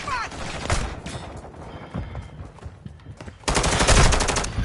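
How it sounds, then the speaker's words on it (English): Bursts of incoming automatic gunfire in a shooter video game, loud and dense, rattling in clusters with a heavy final volley, under a player talking. "Incoming fire!"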